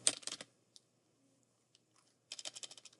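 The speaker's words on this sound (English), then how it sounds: "I'm just going ham on the keyboard." Fast typing on a computer keyboard, heard as a quick burst of clicky keystrokes, then a near-silent pause with a few isolated taps, then another rapid flurry, close and fairly quiet.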